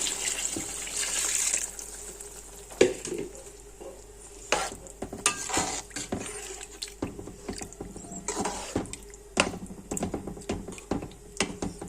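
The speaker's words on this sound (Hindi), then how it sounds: "अब मैं 3 गिलास चावलों के अंदर 4 गिलास पानी के शामिल कर रही हूँ।" Water is poured into a cooking pot of soaked rice, four glasses of water to three of rice, giving a steady splashing pour with occasional clinks and knocks, near and moderately quiet, with no talk.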